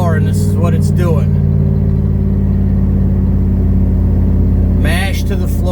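A faulty Chevy 3500 dump truck engine strains in first gear with the pedal floored on an uphill climb, giving a loud, steady, droning rumble close by, while someone talks over it at the start and end.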